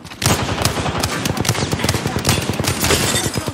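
Rapid automatic gunfire in Apex Legends, a loud, close burst of sharp repeated shots that starts abruptly and keeps rattling steadily for several seconds with no voices.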